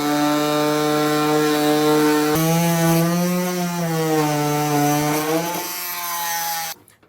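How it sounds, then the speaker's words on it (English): Oscillating multi-tool cutting through a plastic bumper lip on a 2023 Volvo XC60, a loud, steady buzzing whine that shifts pitch as the blade bites and then cuts off abruptly. "cut it off like that. I'm using a multi-tool today."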